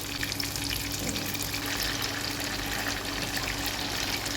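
Tofu frying in hot oil on a stovetop sizzles in a steady, dense crackle that stays close and even throughout, with no voices.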